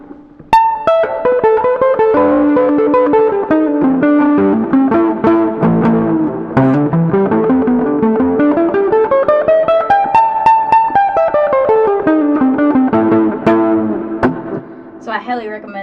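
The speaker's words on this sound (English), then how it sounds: "I'm using a Crayon full range overdrive from Electro-Harmonix" An electric string instrument played through an Electro-Harmonix Crayon full-range overdrive pedal gives a warm, fuzzy, distorted tone as a melodic line climbs and falls over sustained notes, played up close and alone.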